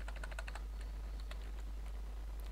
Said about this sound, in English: Try to type immigrant